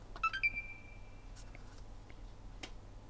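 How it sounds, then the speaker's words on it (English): A short electronic beep sounds near the start against a quiet hum from an Xbox One S with bad corrosion, followed by a few faint clicks and ticks, with no other startup. "A beep and nothing."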